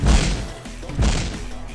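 Bomb explosions hitting the player in the video game Paranautical Activity, heard as two heavy, booming thuds about a second apart with a rumbling low-end tail, loud and close.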